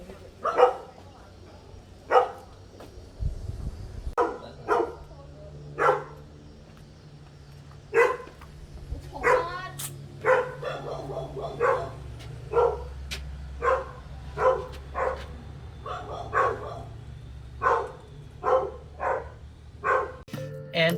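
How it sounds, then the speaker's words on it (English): Dogs bark repeatedly in short sharp bursts, fairly close and fairly loud, roughly one bark a second across a hillside hike in Tsuen Wan, with quieter background ambience between barks. "hearing dogs barking"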